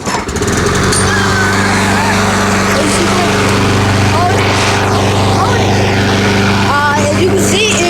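A gas push lawn mower engine runs steadily and loud throughout, a constant close-up drone with a strong low hum and no pauses.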